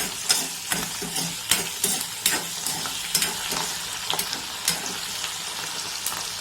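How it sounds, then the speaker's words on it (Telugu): Tempering spices sizzle and crackle in hot oil for mango dal, with repeated sharp scraping stirs at an uneven rhythm, close by, and no voices. "రిమైనింగ్ పోపు దినుసులు అన్నీ వేసుకుని వేయించేసుకుందాం"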